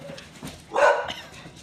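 A single muffled bark from a house dog rings out briefly in an otherwise quiet room, fairly faint and somewhat distant.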